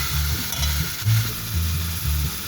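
Ginger garlic paste fries in hot oil with kalonji, mustard seeds and fenugreek seeds, giving a steady close sizzle while a spoon stirs it, and a low rhythmic hum pulses beneath; no one speaks.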